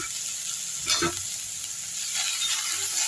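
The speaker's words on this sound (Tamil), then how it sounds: "இந்த முருங்கைக்கீரி எடுத்து போட்டுடலாம் நல்லா வதக்கிடலாம்" Onions and drumstick leaves sizzle steadily in a hot pan, a constant hiss of frying with a brief scrape of stirring partway through.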